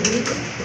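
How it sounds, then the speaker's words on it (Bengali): A single large male pigeon with feathered feet gives one short, throaty coo, close and clear, with nothing else in the background. "তো সিঙ্গেল একটা নর কবুতর"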